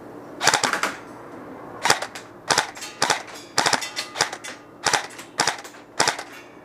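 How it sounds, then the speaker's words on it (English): KWA SR10 2GX airsoft rifle firing with an 11.1 LiPo battery, where a half trigger pull on semi-automatic gives short 2–3 shot bursts: sharp, loud, close cracks in quick clusters, repeated about eight times. "you're going to get a 2 to 3 shot burst"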